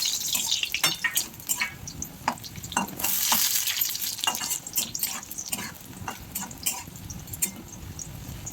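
Onions fry in a pan with scraping stirs and soft sizzling, fairly quiet and close, with a brief louder burst of spatter midway, for dhaba-style black chana masala.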